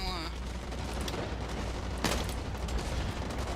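Combat rifle fire in the first-person shooter Blacklight Retribution, dense rapid bursts of gunfire over game noise and effects, one louder blast near the middle.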